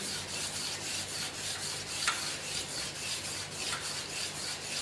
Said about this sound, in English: The first step of polishing using the emery sheet